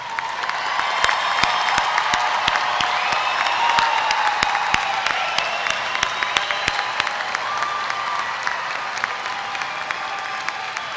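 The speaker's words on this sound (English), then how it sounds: "can we have the graduates just stand one more time and give them a round of applause?" A commencement audience at a university graduation ceremony applauds the standing graduates, steady dense clapping with scattered cheers filling a large hall, sustained and fairly loud throughout.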